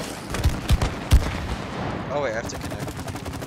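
A few punchy shots fire in the co-op video game It Takes Two, three low thumps in quick succession followed by a warbling electronic tone, with a person talking over them.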